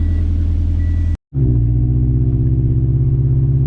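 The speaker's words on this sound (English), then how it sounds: "let's hop in the car, take it for a ride." Scion FR-S fitted with drilled and slotted rotors and ceramic pads, heard from inside as a steady loud engine and road rumble that cuts out for a moment before the car pulls away at a constant low drone.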